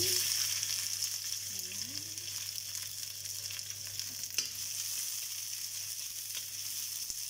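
Garlic and onion sizzle steadily in hot oil in a pan, a continuous close frying hiss with no talking, for chicken with pineapple.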